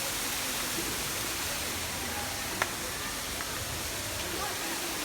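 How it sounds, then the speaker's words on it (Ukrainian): Indoor fountains in a hotel give a steady, even rush of splashing water that runs unbroken throughout, with faint voices in the background. "Прикольно, фонтанчики."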